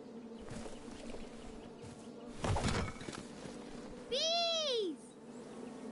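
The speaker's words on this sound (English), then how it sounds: "Bees!" Bees buzzing in the King's Quest game, a brief rising and falling drone that swells near the end over quiet background ambience, with a short loud burst a moment earlier.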